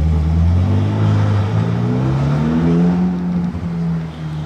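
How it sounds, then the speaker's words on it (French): A Ferrari GTC4 V12 with a sound like constantly open exhaust valves revs loudly nearby, a rising and falling engine drone that stays strong and fades slightly near the end, with no talking. "Le bruit qu'il fait avec sa GTC 4, on dirait qu'il a les valves ouvertes constamment genre."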